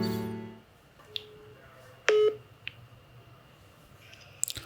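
A WhatsApp voice call being placed, with a few short separate electronic beeps and a brief louder tone burst over a quiet background.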